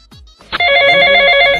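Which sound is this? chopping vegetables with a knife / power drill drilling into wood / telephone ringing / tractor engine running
telephone ringing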